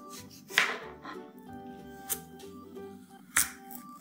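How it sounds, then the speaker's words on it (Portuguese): A knife peels potatoes for mashing, giving a few sharp, close scraping strokes that stand out over a steady tonal background. "eu vou começar lavando e descascando as batatas. Vou pegar a faca com muito cuidado e vou começar a descascar."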